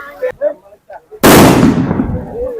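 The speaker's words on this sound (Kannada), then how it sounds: "ಗುರು ಕಾರ್ ತುಂಬಾ ಪಟಾಕಿ ತುಂಬ್ಕೊಂಡ್ ಬಂದವ್ರೆ ನಾಗೇಂದ್ರ ಅವರು." Firecrackers set off at a Basava Jayanthi procession burst loudly and close by in a sudden long crackling volley, following shouting voices nearby.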